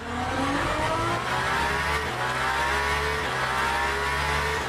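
Hypercar engine in the Le Mans Ultimate racing game roars steadily at high revs, with gear shifts stepping the pitch down twice, loud and continuous with no talk.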